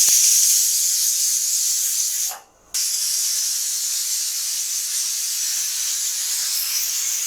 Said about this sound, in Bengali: এখানে আমি 2টা সিটি দিয়ে দেব, তাহলে চিকেনটা সেদ্ধ হয়ে যাবে।